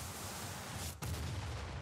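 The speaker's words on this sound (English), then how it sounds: "that's a water explosion" A water explosion attack from the Super Mario RPG video game: a continuous, loud, noisy roaring blast that cuts out briefly partway through, then resumes with a heavier rumbling low end.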